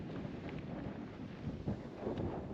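Steady wind buffeting a microphone on the windy coast of Aruba, a constant broadband rush with gusts swelling louder toward the end, no voices.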